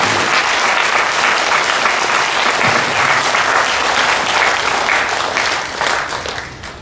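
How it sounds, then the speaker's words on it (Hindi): Steady, loud audience applause at a meditation and spirituality gathering, dense clapping filling the whole stretch and easing slightly near the end. "हम तालियां बजाएंगे हाइएस्ट योग के लिए."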